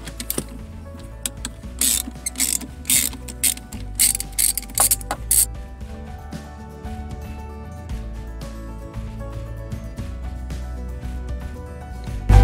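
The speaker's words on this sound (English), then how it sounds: "we're gonna disconnect the negative of the battery. You can use either a 3/8 or a 10mm socket." A ratchet with a 10mm socket loosens the negative battery terminal on a Mercedes-Benz GL450. Loud, close bursts of rapid clicking repeat for about five seconds, then give way to quieter handling noises.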